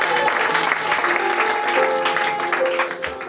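A church congregation claps together at a sermon service, a continuous wash of applause with some faint background tones, holding steady and thinning slightly at the end.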